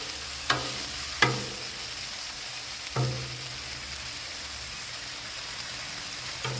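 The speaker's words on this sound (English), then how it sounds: "And we're going to just stir, stir, stir." Ham and potato casserole stirred on a Blackstone griddle, a steady sizzle punctuated by a few distinct scraping clacks of the utensil against the hot flat-top, close and without speech.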